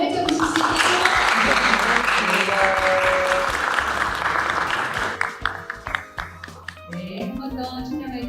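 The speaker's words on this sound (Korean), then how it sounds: "박수가 있으면 더 활짝 웃을 수 있겠죠?" At the 2025 Chungbuk youth FameLab competition, an audience applauds honourable-mention student winners posing for photos. Loud, sustained clapping runs for several seconds, then thins out as voices and scattered claps take over.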